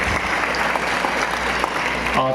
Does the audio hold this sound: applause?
yes